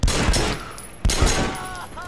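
Two bursts of close, loud gunfire from the Sleeping Dogs video game, each a booming blast with a rumbling tail, spaced about a second apart.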